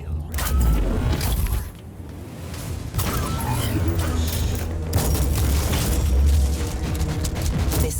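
Booming blasts and explosive rumbles from grenade combat in the Warhammer 40K: Inquisitor video game, with repeated heavy low thuds over continuous battle noise lasting several seconds.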